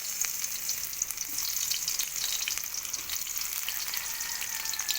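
Garlic and onion frying in hot cooking oil, a steady close sizzle with bright crackling spatter, continuous and without speech.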